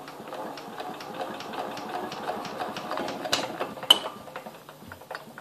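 A Kubota diesel stationary engine cranks on a cold start with a rapid, steady mechanical ticking and chugging from the starter, close by, with a couple of sharper clanks near the end.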